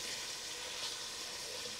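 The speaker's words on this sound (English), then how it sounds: "They gotta fry, the meat they gotta fry" Beef meat frying in a pan for baked ziti, a steady broadband sizzle holding at an even level throughout with no talk.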